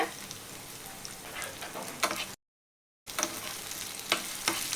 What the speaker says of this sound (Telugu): ఇప్పుడు వీటన్నిటిని లైట్గా ఫ్రై చేసుకోవాలి